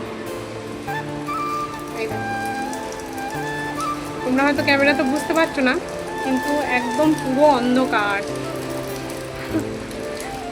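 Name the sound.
heavy rain falling outside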